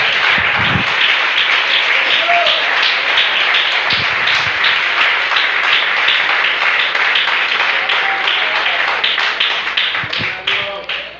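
Congregation applause in a church during a Spanish-language sermon: a dense, steady wash of clapping that runs loud and continuous for about eleven seconds, with a few voices mixed in, then thins slightly near the end.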